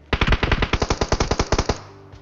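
Rapid automatic gunfire in a mobile battle royale shooter game, a sustained burst of about fifteen evenly spaced loud shots, then a sudden cutoff leaving a faint low hum.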